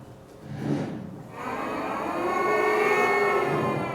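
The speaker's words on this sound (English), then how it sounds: "we have to learn how to do a siren up" A buzzing brass mouthpiece glides upward in pitch like a siren, preceded by a short, breathy buzz.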